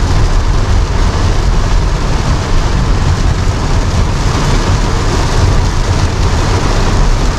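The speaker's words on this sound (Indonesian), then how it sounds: "karena hujan lumayan deras. Jadi suara yang ditangkap mungkin agak terlalu terganggu ya" Heavy rain pounding on a Toyota Innova Zenix Q Hybrid while driving in Indonesia, a loud, steady broadband hiss with low road rumble beneath, continuous and without talk.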